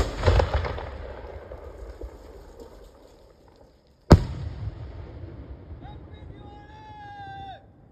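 A sky shot firework during Diwali: a loud boom bursts out, its rumble fading over a few seconds, then a second sharp blast follows with crackling and a high whistling tone trailing after.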